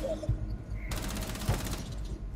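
Gunshots in Rainbow Six Siege: a couple of heavy low thuds followed by a dense burst of rapid automatic fire, all loud and close.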